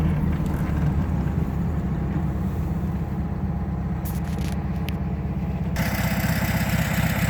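A 1969 Volkswagen Karmann Ghia engine idles steadily and close, a continuous loud putter with an even rhythm throughout.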